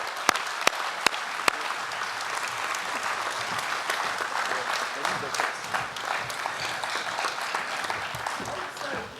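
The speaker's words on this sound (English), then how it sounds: "let's give all of the participants and winners a big round of applause" A blockchain conference audience applauds participants and winners coming up on stage. Several sharp isolated claps open it, then it swells into a dense, steady roar of applause, with voices faintly mixed into the crowd noise.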